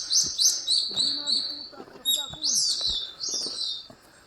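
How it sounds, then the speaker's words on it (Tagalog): Several birds chirp along a mountain trail from Tanay, Rizal toward General Nakar, giving quick, bright tweets and trills close by over faint rustling. "Daming ibon."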